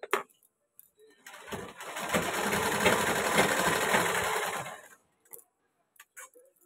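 Sewing machine stitching the waist border of a ghagra skirt, pieced from small cut strips: a steady rapid whirring run of about three seconds, close and loud, with brief clicks before and after.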